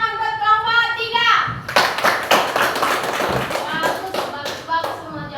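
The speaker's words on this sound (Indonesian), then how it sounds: "tepuk tangan buat kelompok 3" Fourth-grade primary school class clapping for a student group, a burst of quick children's handclaps mixed with kids' voices, following a teacher speaking.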